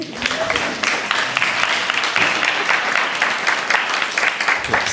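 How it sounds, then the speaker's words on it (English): An audience at a guide dog school graduation gives Allie a steady round of applause, a dense patter of many hands clapping at moderate loudness that holds for several seconds. "How about a round of applause for Allie?"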